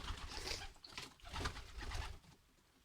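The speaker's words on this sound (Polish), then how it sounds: "Gołębie, słuchajcie, chcą, chcą już wylecieć na dwór." Soft pigeon cooing nearby in a loft, low rounded murmurs rising and falling over a quiet indoor background.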